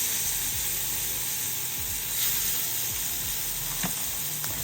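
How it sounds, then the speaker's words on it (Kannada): Fish fries in a little oil on an iron tava, giving a steady close sizzle with faint clinks and scrapes from the pan, and no one speaking. "ಇದಕ್ಕೆ ಸ್ವಲ್ಪ ಆಯಿಲ್ ಹಾಕಿ ಇದನ್ನು ನಾವು ಫ್ರೈ ಮಾಡ್ಕೊಳ್ಳೋಣ."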